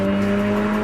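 A supercharged Mini Cooper S engine gives a brief, loud, steady tone with strong even harmonics, consistent with a supercharger whine over the engine note, heard alone.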